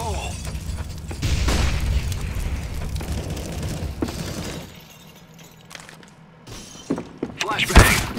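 A grenade explodes in a tactical shooter video game with a loud, rumbling boom and crackling debris, then quieter gameplay follows before a sharp closing thud.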